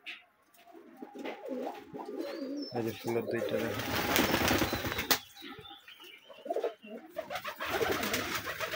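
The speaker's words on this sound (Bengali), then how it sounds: "এগুলো হচ্ছে আমরা গোল্লা কবুতর বলি।" Golla pigeons coo in low, throaty bursts close by, with a brief flurry of flapping wings, while someone talks over the birds.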